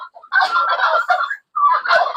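A pet turkey gobbling in a backyard poultry pen, two loud, close bursts of rapid warbling calls separated by a short pause.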